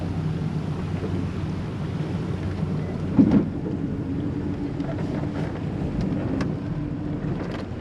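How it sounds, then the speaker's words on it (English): A 1999 Formula 280 Sun Sport boat's engine rumbles low and steady, with wind buffeting the microphone on the water in a cove and a brief louder thump partway through. "Our engine's doing the thing on the port side where it likes to lose RPM."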